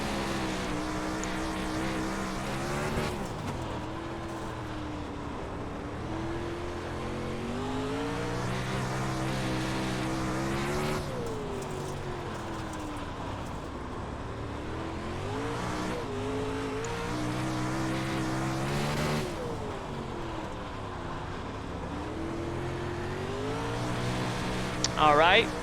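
Race car engine in the iRacing sim drives through long rising and falling revs as it backs out of and rolls into the throttle, a steady loud drone with repeated gear-change dips, heard under a voice talking.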